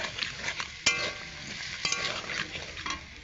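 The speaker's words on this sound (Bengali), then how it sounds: "এবার আলু আর মশলা ভালোভাবে কষাতে থাকবো।" Potatoes and spice paste frying in a pan while being stirred, with soft scraping and sizzle plus a couple of sharp utensil knocks against the pan.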